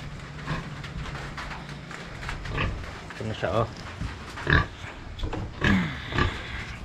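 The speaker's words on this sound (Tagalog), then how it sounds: "dito ako sa baboyan namin. Bali, papakainin ko lang saglit tong baboy namin." A farm pig grunts and snuffles while being fed in a rural pen, with repeated close, irregular grunts and some clattering, and someone talking briefly among them.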